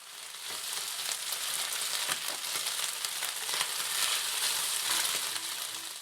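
Pork stir-frying in a pan with red paprika gives a steady, loud sizzle with scraping stir strokes throughout, alone without voices.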